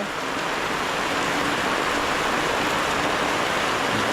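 Heavy rain pours down steadily in the early morning, a dense, continuous hiss of water drumming on surfaces, flooding the street, with no pauses or voices.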